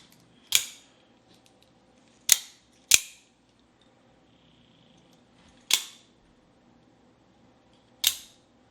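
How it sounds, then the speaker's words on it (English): A Microtech automatic knife, just reassembled, fires its blade open and shut five times, each a sharp, close metallic snap followed by a short ringing tail, separated by quiet gaps. "check to make sure your knife works."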